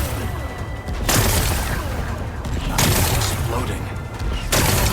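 Rocks are blasted apart by explosions in Horizon Forbidden West, with three loud, close booms at roughly even intervals, each followed by a crashing rumble of debris.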